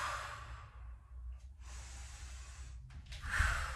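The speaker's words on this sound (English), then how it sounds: "Let's breathe." During a strength workout with stretching, soft audible breaths and a sharp nasal exhale come through close and quiet, with no talking.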